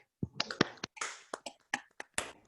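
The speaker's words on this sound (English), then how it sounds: "maybe we can give a big round of applause to Lisa Ducasse" An online audience applauds a poet at a literary session: a scattered handful of sharp, close claps picked up by a microphone, irregularly spaced with silence between.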